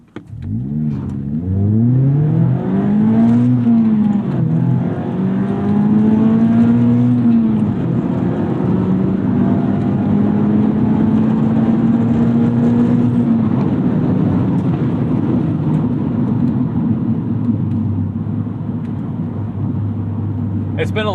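A Mazda Miata Club ND3 accelerates hard through the gears, its engine note climbing and dropping at each shift in a loud, close in-cabin roar that settles into a steady drone, with a voice heard at times.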